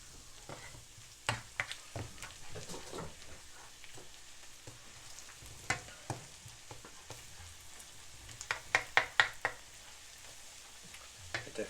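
Wild poke greens frying crispy in a pan, a soft continuous sizzle with scattered crackles and pops and occasional stirring scrapes, fairly quiet and close, with no talking.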